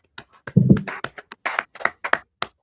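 A few scattered hand claps ring out in a brotherhood scripture class, loose and irregular rather than a full round of applause, with a low murmur briefly underneath.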